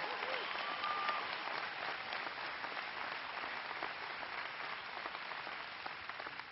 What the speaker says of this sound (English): Please give Ken a big round of applause.